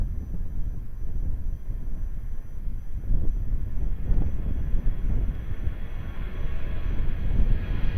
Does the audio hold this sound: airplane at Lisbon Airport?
yes